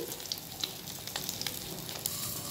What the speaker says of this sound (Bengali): এবারে এই মাছ ভাজার তেলের মধ্যে যে আলুগুলো কেটে রেখেছিলাম, আলুগুলো একটা সিটি দিয়ে রেখেছিলাম, আলুগুলোকেও আমি ভালো করে ভেজে নিচ্ছি